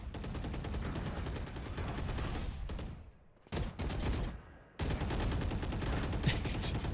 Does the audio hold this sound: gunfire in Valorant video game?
yes